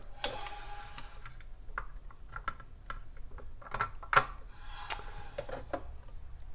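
A coffee pod machine ejects a reusable pod in a run of small plastic clicks, ticks and snaps, irregular and close, with a few sharper clacks as the mechanism opens and releases the pod.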